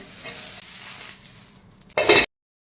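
Soft, steady sizzling of a whole brinjal roasting on a hot griddle, ending in a brief louder burst of crackle before cutting to silence.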